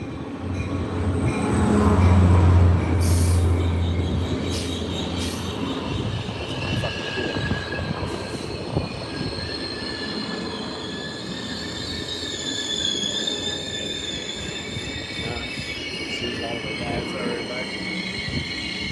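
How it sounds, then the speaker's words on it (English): A train rumbles steadily past nearby, with squealing wheels and metallic screeches over the continuous roar, and some talk underneath. "let's listen to the train"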